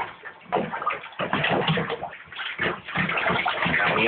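Water sloshing and splashing in a bathtub as ferrets are bathed, with continuous churning bursts of movement and no talking.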